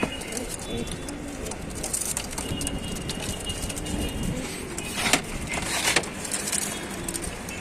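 Pigeons kept for sale in a loft in Tanta coo softly and continuously nearby, with rustling, a few wing flaps and occasional sharper knocks mixed in.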